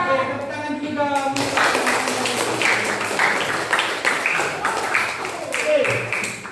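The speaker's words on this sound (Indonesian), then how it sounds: "tepuk tangan dulu dong" A classroom group clapping unevenly nearby, with a voice speaking at the start and other voices mixed in among the claps.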